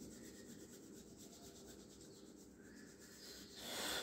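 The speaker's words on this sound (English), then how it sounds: "I'm rubbing the hands to create the friction and heat." A pair of hands rub briskly together close by, making a soft continuous swishing friction that swells a little louder near the end, quiet and without any talking.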